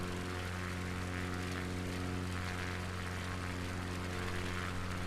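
Propeller airplane engine in Microsoft Flight Simulator 2020 on a Patagonia bush flight, a steady, even droning hum with layered tones that runs unbroken and moderately loud throughout, with no speech.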